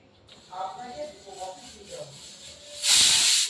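A pressure cooker holding a methi and jackfruit curry lets out a single loud, sharp steam whistle near the end, after someone talks over a faint hiss.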